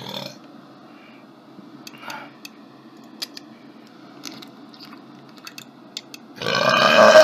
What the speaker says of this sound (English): I can't help them burps!